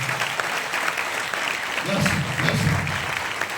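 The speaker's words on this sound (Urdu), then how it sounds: "سو آئیے اپنی اپنی والدہ کے لیے ذرا زوردار تالیاں بجا دیجیے" A church congregation applauding for mothers during a sermon, a steady burst of clapping that swells louder partway through, with some voices mixed in underneath.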